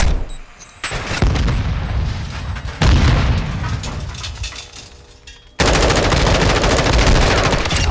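Gunfire in Modern Warfare 2 DMZ, a shooter video game: loud close bursts of rapid automatic fire with booming impacts, coming in several abrupt waves with brief lulls between.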